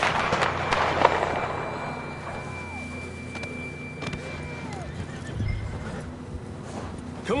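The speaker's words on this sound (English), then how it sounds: "I don't think we can go much further on the horses." A horse whinnies and snorts in the video game Red Dead Redemption 2 over a steady ambient background, with faint clopping hooves and scattered tonal chirps.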